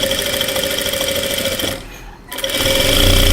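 A sewing machine runs at steady high speed stitching rolled piping onto double-layered cloth, loud and continuous with a brief slowdown and dip before it revs back up.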